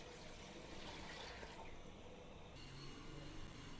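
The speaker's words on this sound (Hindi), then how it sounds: "पानी शामिल करेंगे इसमें।" Water is poured into a kadhai set on a stovetop burner over a high flame, producing a steady, close rushing and splashing that runs the whole stretch with no talk.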